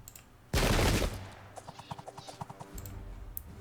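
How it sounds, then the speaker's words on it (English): Musket volley fire in the Pike and Shot Campaigns game: one loud burst of massed gunfire, followed by a rapid sequence of lighter crackling shots and then a renewed low rumble. "Now this guy will shoot."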